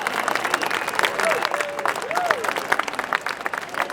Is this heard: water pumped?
no